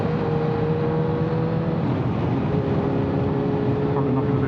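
A motorcycle engine holds a steady drone at cruising speed on a rural B-road, loud and close throughout with wind and road noise, its pitch dipping slightly midway.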